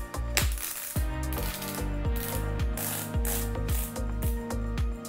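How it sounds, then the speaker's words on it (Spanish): A BOA dial on Spiuk Profit Dual cycling shoes clicks in a steady series of sharp ratcheting ticks as it loosens step by step, close and clear with no talking. "También podemos aflojar con el boa, paso a paso."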